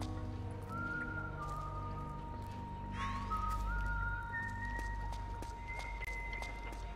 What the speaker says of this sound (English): The whistling's actually a bit annoying.